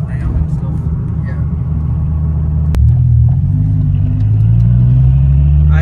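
A Dodge Viper accelerates with a deep, loud engine rumble heard from inside the car, rising in pitch as the throttle opens, with a voice talking over it.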